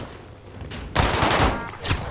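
Gunfire in the shooter game Warzone, with a loud burst of rapid shots starting mid-clip after quieter game noise, then a second short volley near the end.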